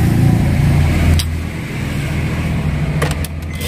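A 2013 Suzuki Ertiga GL engine cranks on the starter and then idles with a steady low hum, with a few brief clicks near the end.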